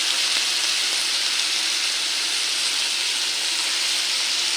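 Tomatoes and coriander fry in a pan while being stirred, a steady dense sizzle with soft hiss that runs unbroken and close, with no talking.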